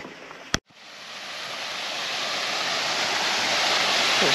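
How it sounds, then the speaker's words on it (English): A small waterfall on a hiking loop near Roche Abbey in the UK gives a steady, soft rushing hiss that builds gradually after a brief click and carries on alone. "There's a small waterfall here."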